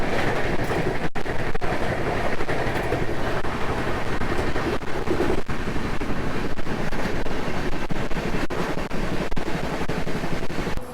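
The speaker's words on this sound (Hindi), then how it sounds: "बाकी हमारी ट्रेन जो है वो अभी 130 की रफ्तार में चल रही है" Sampark Kranti Express passenger train running at about 130 km/h, a steady loud rumble of carriages with rhythmic rail clatter and wind noise throughout, heard from inside.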